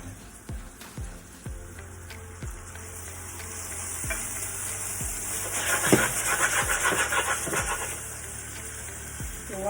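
Diced shrimp with a splash of tamari sizzles steadily in a hot pan, a continuous crackling fry punctuated by occasional soft clicks of a utensil, swelling slightly louder midway.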